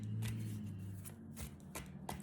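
Tarot cards being shuffled by hand in a steady riffling rhythm, several crisp bursts close up over a low steady hum, with no talking.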